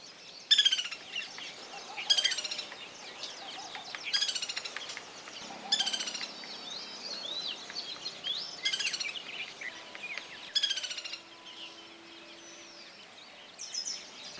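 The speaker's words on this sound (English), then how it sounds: "Call of white-naped woodpecker is also quite distinct. It is tinnier, higher-pitched rattle than goldenbacks." White-naped woodpecker giving several tinny, high-pitched rattling calls in repeated bursts, each phrase dropping in pitch, against a forest background of other faint birdsong.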